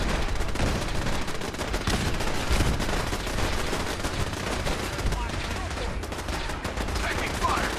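Dense, continuous gunfire and automatic bursts crackle without pause in a Bunker Hill battle video game, loud and close, with shouting voices mixed underneath.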